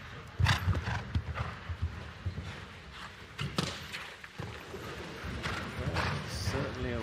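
A show jumping horse canters through an indoor World Cup 5-star arena, its hooves thudding in a rhythmic gait under a commentator's voice, with a brief neigh and crowd ambience.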